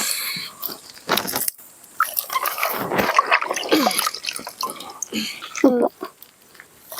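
Water poured into a hole in the ground while digging for red lobsters, heard as splashing and dripping bursts close by, with people talking over it throughout.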